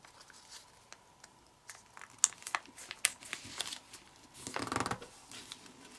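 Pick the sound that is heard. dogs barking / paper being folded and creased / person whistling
paper being folded and creased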